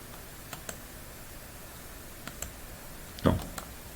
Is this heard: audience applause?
no